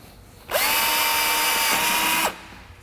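A power drill bores out a rivet on a Fox Body strut plate during a Fairmont K-member install, one steady high whining run of under two seconds, loud and close, with the pitch dipping slightly near the end and no talk.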